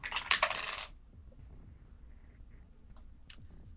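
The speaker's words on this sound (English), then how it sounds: "roll some dice here." Virtual dice rolling in TaleSpire, a quick bright clatter of several rattling clicks that fades into a quiet background, followed by one more brief click a few seconds later.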